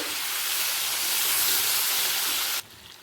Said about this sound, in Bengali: মাছে কিছুটা তেল গ্যাসের ফ্লেমটাকে লয়ে রেখে তেলটাকে একটু গলিয়ে নেব